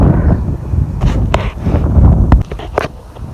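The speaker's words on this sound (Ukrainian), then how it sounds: "вітер он який. Поривистий такий, то нема, то є" Gusty storm wind buffets the microphone in uneven bursts, rising and falling with a few sharper rushes, loud and close throughout.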